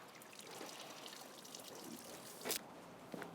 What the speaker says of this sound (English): we're just wetting the actual windscreen itself completely over